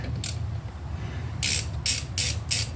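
A ratchet wrench loosens a bolt on a car's wheel hub assembly in short bursts of rapid metallic clicking, four or five separate runs with brief pauses between, close by and fairly clear over a low hum.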